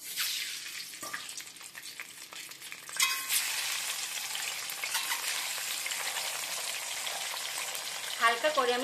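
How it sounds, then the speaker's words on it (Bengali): Eggs fry in hot oil left over from frying potatoes for a Dak Bungalow chicken dish, giving a soft, steady sizzle with occasional stirring clatter and a louder burst of spitting near the end. "একই তেলে আমি ডিমগুলো ভেজে নিচ্ছি।"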